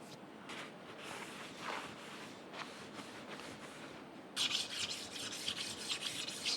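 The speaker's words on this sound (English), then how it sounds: "Stone it to get the burrs off." A sharpening stone rubs over a Monarch 10EE lathe cross slide to knock off burrs, giving steady back-and-forth rasping strokes close by that turn brighter and louder partway through, with no talking.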